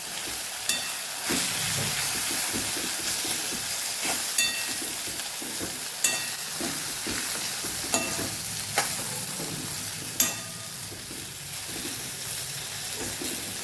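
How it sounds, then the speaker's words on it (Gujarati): Spice masala for Kathiyawadi-style okra curry fries in a pan under steady sizzling, punctuated by sharp scrapes and clicks of a spoon stirring at irregular intervals, close and continuous. "આપણે હવે એને ફેરવીને હલાવશું ને ચોતરશું"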